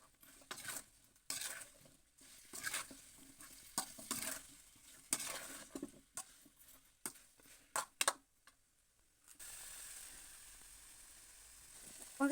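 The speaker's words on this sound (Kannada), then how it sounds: "ಈಗ ಗ್ಯಾಸ್ನ ಹೈ ಫ್ಲೇಮಲ್ಲಿ ಇಟ್ಟುಬಿಟ್ಟು ಪೊಟ್ಯಾಟೊನ ಚಂದ ತಿರುಗಿಸ್ಕೋಬೇಕು" Potatoes fry on a high gas flame while a spoon stirs and scrapes them around the pan, giving repeated clinks and scrapes over a sizzle that settles into a steady hiss near the end.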